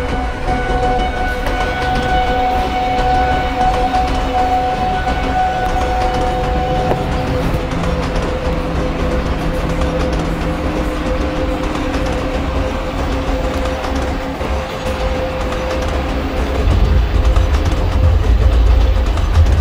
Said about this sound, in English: So let's speed up the train.